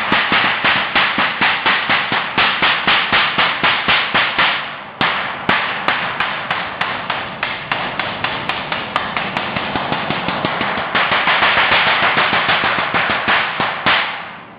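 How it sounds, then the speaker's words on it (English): A big aluminum sheet struck over and over for high-pitched whip sound effects, giving a dense, fast run of sharp metallic cracks and slaps. It sounds close and loud, with a brief thinning of the hits midway. "This is a big aluminum sheet, basically used for really high pitched whip sounds."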